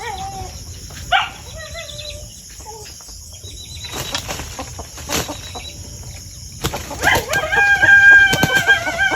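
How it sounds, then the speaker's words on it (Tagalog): A native rooster crows among clucking native chickens outdoors, with other birds calling faintly and a brief flutter of wings nearby. "Kana biyo apilag manok."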